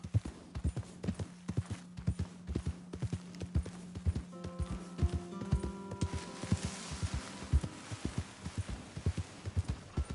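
Steady clip-clopping of horse hooves in a quick, even rhythm, fairly close, with a brief musical tone rising partway through.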